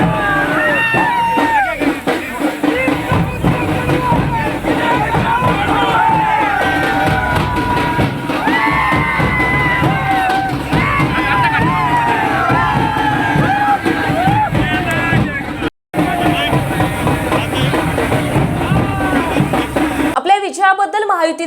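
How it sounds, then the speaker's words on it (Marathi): Party workers and leaders celebrate outside a vote-counting centre after Narayan Rane's BJP Lok Sabha win in Ratnagiri-Sindhudurg. A loud, dense crowd cheers, shouts and whoops continuously, with a brief dropout near the end. "नेते आणि कार्यकर्त्यांनी मतमोजणी केंद्राबाहेर एकच जल्लोष केलाय"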